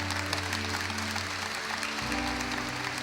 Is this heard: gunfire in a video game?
no